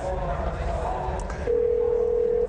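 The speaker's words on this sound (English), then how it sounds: "And now it's dialing." Car hands-free phone system placing a call: a short electronic dialing sequence ends in a steady, sustained dial tone, heard close and clear.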